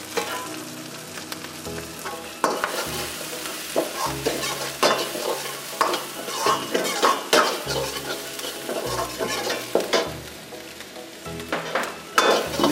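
Dry red chillies and onions fry in a pan for dal makhani and pepper paneer, with a steady loud sizzle under repeated scraping stir strokes and occasional utensil knocks against the metal, close up and with no voices.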